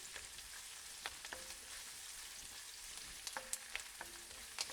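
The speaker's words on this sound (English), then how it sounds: "So it'll just fry all the curry leaves, pandan leaves, and onion and garlic" Sri Lankan crab curry paste sizzles quietly in a pan with onion, garlic, curry leaves and pandan leaves, a faint steady hiss dotted with small pops and brief utensil taps, no voices.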